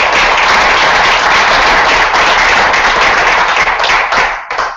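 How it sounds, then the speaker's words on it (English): Audience at a Toastmasters club meeting of young professional entrepreneurs gives a loud, dense round of applause, steady and sustained close by, then thinning and fading out at the end. "So I really want to give a round of applause."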